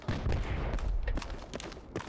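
Gunfire in the tactical military shooter game Project Reality 2 comes as a rapid series of loud, sharp shots and impacts, with brief overlapping bursts filling the short stretch.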